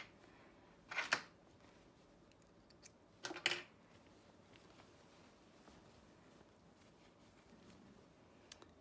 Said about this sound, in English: and then trim those threads